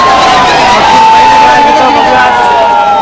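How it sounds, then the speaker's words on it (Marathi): A crowd roars and cheers at a bullock cart race, a loud, sustained wash of shouting and babble with a high whistle-like tone running through it. "पब्लिकचा जल्लोष बघा गाईज."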